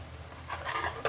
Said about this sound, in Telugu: మళ్ళీ బాండి పెట్టేసుకొని ఈ పాకం ఇందులో పోసేసుకుందాం